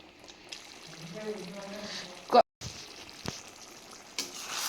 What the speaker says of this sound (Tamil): மூடி போட்டு ஒரு பத்து நிமிஷம் வரைக்கும் கொதிக்க விடணும்